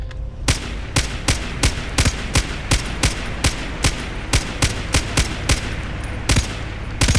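Rapid, evenly spaced bursts of machine gun fire in the video game Far Cry 3, about three shots per second, loud and sharp, continuing without pause.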